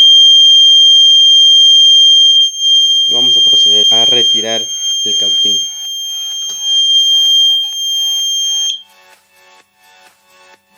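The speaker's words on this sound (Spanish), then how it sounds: "Se ha activado la alarma." A brake-disc temperature sensor alarm, set off as a soldering iron heats the material, sounds a loud, continuous high-pitched electronic tone while someone speaks over it; the tone cuts off shortly before the end.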